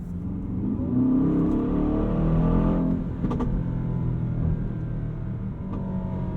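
Aston Martin DBX 707 SUV with a V8 engine accelerating hard, a deep rumbling engine note rising in pitch and swelling, followed by a brief crackle and a steady, settled cruise, heard from inside the cabin.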